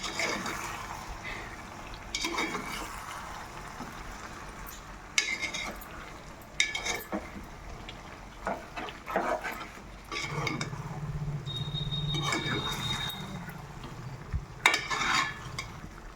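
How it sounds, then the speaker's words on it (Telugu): Spoon scraping and stirring spice paste into country chicken curry in a pot, intermittent clanks and wet stirring with a faint sizzle, fairly quiet and close. "ఇదంతా కలుపుకోవాలి పేస్ట్లో."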